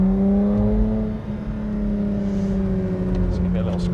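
A naturally aspirated BMW E30 3 Series Touring engine revs and drones steadily from inside the car during heel-and-toe downshifts, a strong harmonic engine note rising and falling slightly, with talk over it.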